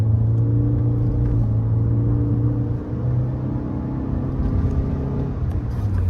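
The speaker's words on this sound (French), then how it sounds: "On va accélérer." Toyota C-HR with about 142,855 km accelerating: a steady, loud engine drone and road rumble with a low hum that briefly dips near the middle, then holds on, heard from inside the car with no talking.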